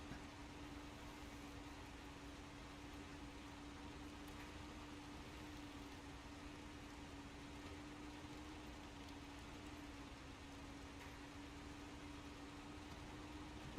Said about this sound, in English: Engine sounds like it's struggling a little bit.